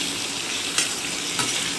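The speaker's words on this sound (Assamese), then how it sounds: "এয়া এতিয়া দি দিলোঁ মাংসখিনি ভালদৰে ভাজি ল'ম।" Duck meat fries in a pan with browned onions, giving a steady, dense sizzle with a couple of brief louder crackles as it is stirred, close and continuous.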